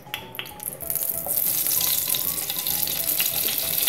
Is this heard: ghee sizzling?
yes